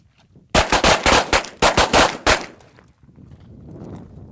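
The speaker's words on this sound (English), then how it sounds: "On the up command, you're going to draw and fire." Rapid pistol fire at a junior shooting training camp: about eight sharp, loud shots in quick succession over two seconds after a draw, followed by quiet ambient noise.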